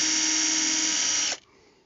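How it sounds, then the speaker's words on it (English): A cordless drill whirs steadily at high speed for just over a second while boring a screw hole in a wooden beehive, then cuts off abruptly. "kind of hard to do while you're drilling and filming at the same time"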